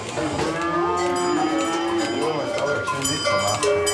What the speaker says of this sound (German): Das Melken der Kühe schaffen die Pfister, die Sommerhelfer, fast schon alleine.